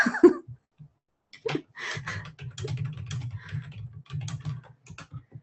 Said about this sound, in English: I don't know why I'm typing.